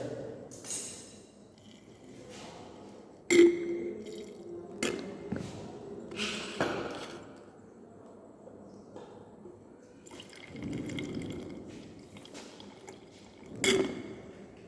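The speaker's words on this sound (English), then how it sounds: "Then about 100 ml of distilled water was added." Distilled water is poured into a glass conical flask holding media ingredients in a lab, with soft splashing, gurgling and scattered drips, quiet and intermittent, with a few sharp clinks of glass.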